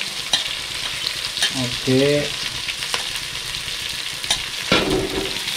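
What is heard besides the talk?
onions and green chillies frying in oil, stirred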